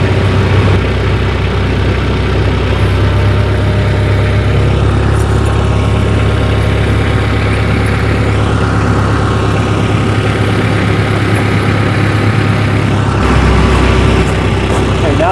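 A tractor fitted with pewag Doppelspur winter tire chains rumbles steadily as it drives slowly forward, a loud continuous low engine drone that shifts slightly near the end.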